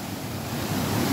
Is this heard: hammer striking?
no